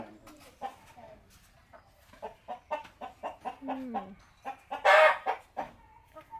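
Laying hens cluck nearby in short, repeated bursts, with one louder squawk partway through.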